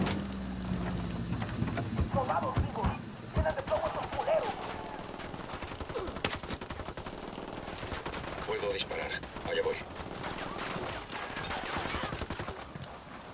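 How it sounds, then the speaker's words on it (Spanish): Bursts of gunfire in Ghost Recon crackle throughout, coming from a church, with sharp single shots and rapid volleys over a steady background, mixed with faint voices. "Los disparos vienen de la iglesia."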